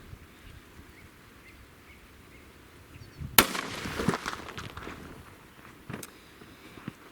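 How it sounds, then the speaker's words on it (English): A single sharp shot from an M&P 9mm air gun fired into beverages, a loud crack followed by a few seconds of splashing and scattered debris, with a faint later impact. "let's do the penetration test on the beverages once again with the M&P"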